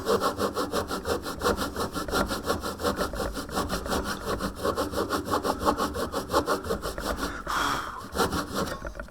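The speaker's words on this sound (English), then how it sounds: "And I can tilt my saw up just a wee bit, particularly with MDF, it's quite easy." A tenon saw cuts MDF for a stopped housing joint with fast, even back-and-forth strokes, close and fairly loud, a continuous rhythmic rasp with a brief change in texture near the end.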